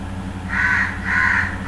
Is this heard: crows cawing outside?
yes